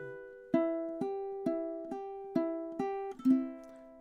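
Ukulele chords are strummed in a slow, even rhythm, about eight strokes each ringing out and fading, close and clear with no voices.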